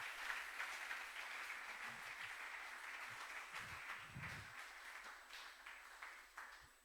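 A church congregation applauding during a service, a faint, steady wash of clapping from a distant crowd, with a few low bumps beneath it.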